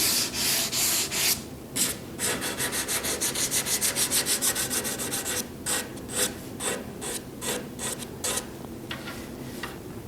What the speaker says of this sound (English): So just a little bit of final sanding before we move on to applying the finish.